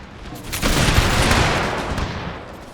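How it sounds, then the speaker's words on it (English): Artillery fire against a wall in the strategy game Empire: Total War, a dense rolling barrage of overlapping booms that swells and slowly fades over a few seconds. "some of my artillery then firing to break down the wall"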